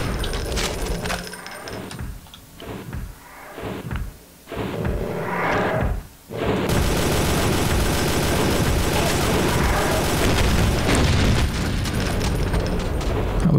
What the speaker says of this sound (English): just watching those rockets come out of his barrel and towards my face